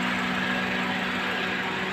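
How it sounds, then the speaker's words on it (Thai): A steady, droning 2008 Honda Civic FD engine idles close by, with a constant low hum and no other sounds. "ผมสตาร์ทเครื่องยนต์ไปสักพักหนึ่งนะครับผม"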